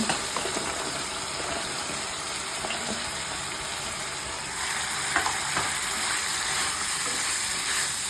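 Mixed vegetables sautéing in spice paste in a pan, a constant crackling sizzle with intermittent stirring scrapes, moderately loud and even throughout, without speech.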